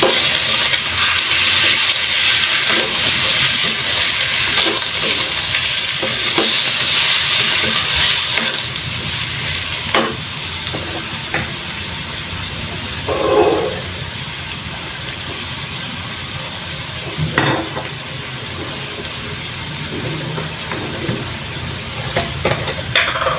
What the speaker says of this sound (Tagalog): Binigisa ko to sa patis.